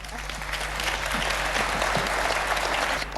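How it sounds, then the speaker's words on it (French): Studio audience applauding on a French television show, dense even clapping that holds steady across the whole stretch with a faint low hum underneath and no voices on top. "on les accompagne d'un applaudissement"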